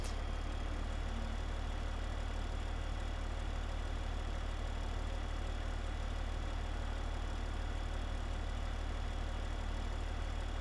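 A John Deere 4010 tractor engine in Farming Simulator 15 drones steadily at idle through the whole stretch, a constant low hum with no talk over it.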